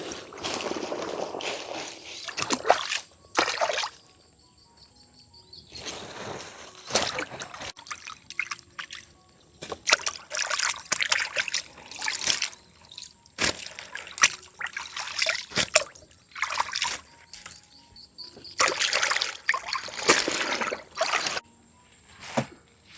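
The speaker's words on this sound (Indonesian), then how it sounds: "Lanjut kita cuci di sungai." Freshly harvested mustard greens being rinsed in a river, with bursts of splashing and trickling water alternating with quieter pauses, close and fairly loud.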